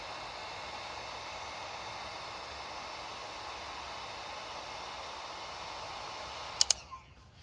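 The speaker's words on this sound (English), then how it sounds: "Using a heat gun really helps out." A heat gun blows hot air in a steady, loud hiss that runs unbroken for several seconds, then a couple of sharp clicks as it switches off and winds down.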